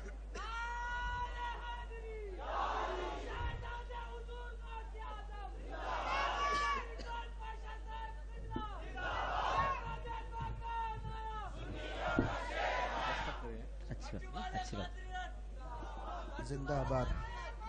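A large crowd at a Sunni religious gathering in Kurnool shouts religious slogans in unison, with repeated swelling call-and-response bursts of many voices filling the space.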